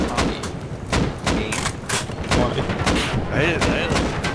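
Gunfire in the video game Rust during a helicopter fight: repeated sharp shots and booming impacts crack in irregular bursts, some close and loud, with players talking between and over them.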